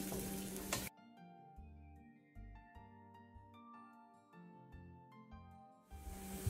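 Garlic, onion and ginger fry in oil for a mixed sabzi, with a loud broadband sizzle at the start and again at the end, and a quiet musical passage in between.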